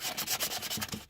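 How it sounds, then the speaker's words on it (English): Flathead screwdriver scraping blue paint off a car's metal windscreen frame: about six quick, close, rasping back-and-forth strokes in a fast rhythm, then a sudden stop. "I'm just scraping back some of the paint."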